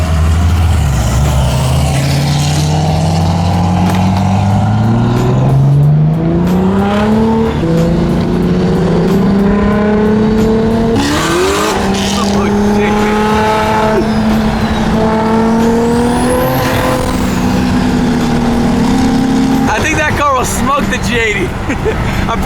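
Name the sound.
single turbo BMW M3 cars driving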